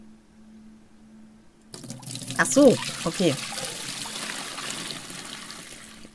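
Water from a hose pouring into a bucket in the Aquarist video game, a near, trickling, gurgling stream that starts after a quiet hum and keeps running while someone briefly speaks.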